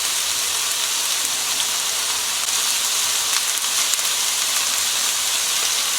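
Vegetables frying in a hot wok for Chinese takeaway-style crispy chilli beef, a continuous, even hiss and crackle of sizzling oil, close and steady with no talking.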